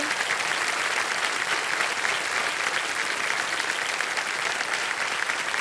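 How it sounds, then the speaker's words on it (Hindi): Studio audience on the KBC quiz show claps loudly and continuously, a thick even wash of applause sustained for several seconds with no talk over it. "एक बार जरा जोरदार तालियां बजाएं।"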